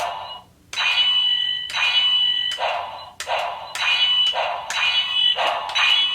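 Electronic button sound effects from a Legacy Power Sword toy play loud and close: a series of shrill, buzzy alarm-like bursts with short pauses between them, cycling in a repeating pattern.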